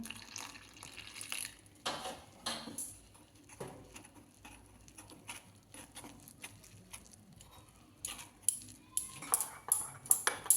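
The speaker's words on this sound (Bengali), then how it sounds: "এবার জল দিয়ে এই ব্যাটারটা তৈরি করে নেব।" Batter for ash gourd fritters, seasoned with salt and turmeric, is mixed with water in a bowl: faint wet squelching and light clinks against the bowl in irregular strokes, growing busier toward the end.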